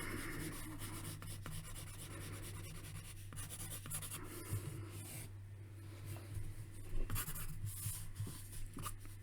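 Pencil scratches and rubs on paper as a face is drawn in profile. Short, close strokes repeat irregularly over a low steady hum.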